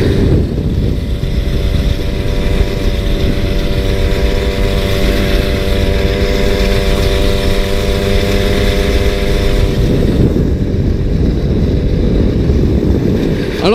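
A 1993 MBK 51 Magnum moped, in stock original form, runs steadily while being ridden, its small engine holding a smooth, fairly quiet drone with wind rush. The pitch shifts and the note changes near the end as the rider eases off.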